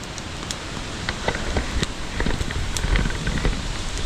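Steady rain pattering down, a dense continuous hiss with scattered drops, swelling slightly louder toward the end.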